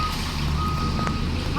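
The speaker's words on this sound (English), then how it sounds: "there's a truck that's blocking the way." A truck reversing, its backup alarm beeping steadily over a loud rumbling engine nearby, with no talk.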